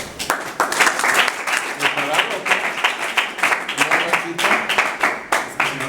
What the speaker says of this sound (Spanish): les pido un aplauso para empezar